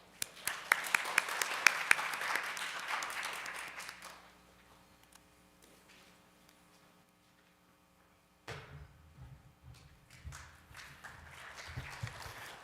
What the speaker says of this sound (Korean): 여러분 큰 박수로 로이 태원님을 맞이해 주시길 부탁드리겠습니다